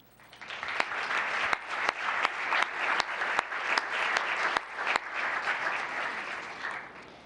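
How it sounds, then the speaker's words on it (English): Enthusiastic audience applause at an awards ceremony as judges stand to be recognized, many hands clapping loudly and continuously with a few sharp nearby claps standing out, tapering off at the close. "if they could please stand and be recognized with a nice big round of applause"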